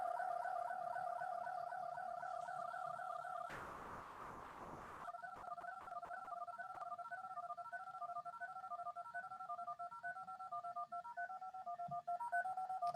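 Telephone DTMF dialing tones, a faint, steady run of paired dial tones broken briefly by a burst of noise before the tones resume, with no voices.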